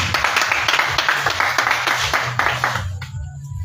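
A church congregation at a prayer vigil claps and applauds in praise, a steady run of fairly close hand claps that stops abruptly near the end.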